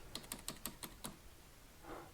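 Quick keystrokes on a computer keyboard, about seven close, light clicks in a steady run, then a pause with a faint soft rustle; quiet overall with no talk.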